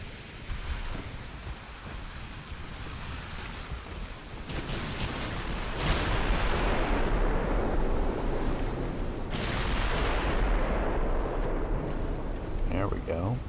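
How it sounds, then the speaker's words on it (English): Warship broadside gunfire in the naval game Ultimate Admiral: Dreadnoughts, deep booming blasts and rumbling roll that swell to heavy bursts around the middle and latter part, with a constant wind-like background. "let's get full broadside to these destroyers for now"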